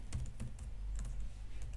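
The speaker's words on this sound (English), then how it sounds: "Now what is happening to my typing?" Typing on a computer keyboard, quick irregular soft clicks close by over a steady low hum, with no talk.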